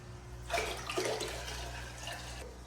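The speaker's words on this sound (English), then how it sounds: "So let's throw some water in here." Water poured into a home fish tank, a splashing rush lasting about two seconds, moderately close, with no talking.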